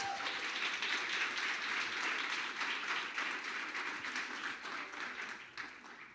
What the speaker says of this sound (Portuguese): Agora você pode aplaudir Jesus.